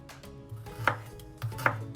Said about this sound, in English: we're going to cut 2 cloves of garlic and half a teaspoon of ginger